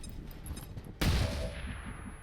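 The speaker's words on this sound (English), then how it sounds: "now we got a sniper shot." A sniper rifle shot in the turn-based strategy game XCOM Long War, a single sharp, loud blast that cuts in abruptly and then decays into a rumbling tail, with faint game ambience before it.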